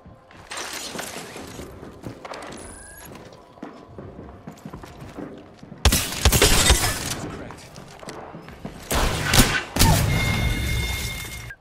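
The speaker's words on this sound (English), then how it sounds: "Those shots weren't directed at me." Gunshots ring out in the Apex Legends battle royale as irregular bursts, with faint distant pops early on, then louder nearby volleys and impacts later, over busy game ambience.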